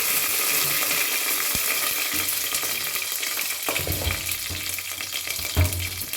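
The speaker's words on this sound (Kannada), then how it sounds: "ಸಾಸಿವೆ ಸಿಡಿಬೇಕು." Mustard seeds, curry leaves and green chilli crackle and sizzle in hot oil in a pan, a steady close frying hiss with a few dull knocks and bursts as the seasoning splutters.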